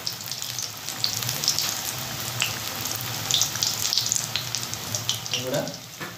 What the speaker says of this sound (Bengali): তেলের মধ্যে দিয়ে দেবে। আবার একটা দিলাম, আবারও একটা দিলাম বন্ধুরা। 3টে করে ভেজে নেব বন্ধুরা।